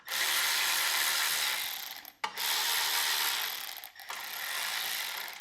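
A 1/4 inch socket ratchet turns starter screws on a snow blower, giving a dense, steady clicking of the pawl in three long runs split by short pauses, close and loud with no talking.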